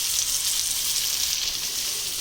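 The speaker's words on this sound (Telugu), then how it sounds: "ఆనియన్స్ రెడ్డిష్ కలర్ వచ్చే వరకు ఆనియన్స్ వేయించుకోవాలి." Onions fry in oil until reddish while a chuduva snack is made, giving a steady, close, hissing sizzle throughout with a brief clatter at the very end and no talk.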